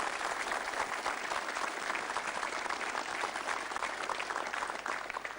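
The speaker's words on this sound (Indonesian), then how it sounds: "Kita berikan aplaus dan tepuk tangan yang meriah." Sustained applause from a studio audience welcoming guests at a televised Indonesian labor strike discussion, even and continuous, fairly distant and soft, with no speech over it.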